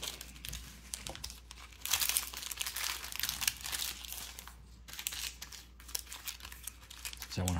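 Someone tears open a foil pack of 2024 Topps Heritage Baseball cards; the crinkling and ripping wrapper sounds are close and fairly quiet, rustling in irregular bursts for several seconds with no talking.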